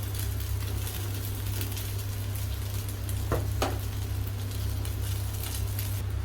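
Drained vermicelli is mixed into a masala in a pan for semiya upma, a steady low sizzle with a couple of sharp spatula scrapes midway and no talk.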